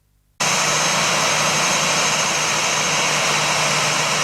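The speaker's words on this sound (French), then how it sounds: "C'est tard dans la soirée qu'a atterri l'avion en provenance de Goma à l'aéroport de la Luano de Lubumbashi" An airplane arriving from Goma at Lubumbashi's Luano airport in the evening thunders in suddenly after a brief silence, its loud jet engine roar holding steady and close for the rest of the clip.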